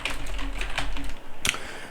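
Keys clatter in a quick, uneven run on a computer keyboard while entering a database query, close and moderately loud, with a sharper burst of keystrokes near the end and no talking.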